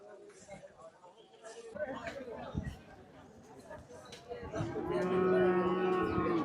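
Cattle at a cattle market moo, one long, drawn-out low call rising near the end over the murmur of people talking and bargaining nearby.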